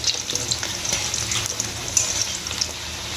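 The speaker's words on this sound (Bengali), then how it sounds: "আলুগুলো এরকম লাল লাল করে ভেজে নিতে হবে" Potato pieces fry in hot oil in a home kitchen, a loud continuous sizzle with crackling bursts and occasional clinks of a stirring utensil.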